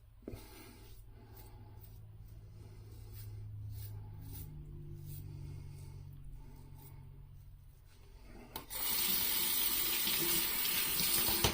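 A bathroom tap opens after a shave and cold water gushes loudly into the sink, following a quieter stretch of low rumble and small handling sounds.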